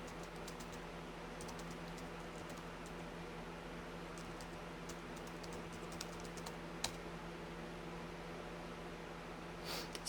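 Terminal commands typed on a computer keyboard running OpenBSD: quiet, irregular key clicks in quick bursts over a steady fan-like hum, with one sharper tap near the end.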